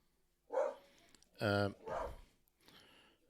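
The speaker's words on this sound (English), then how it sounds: "Obviously, the neighbour's dog is out." A neighbour's dog barks outdoors in a garden, with a few separate barks or yips spread out between bits of someone talking nearby.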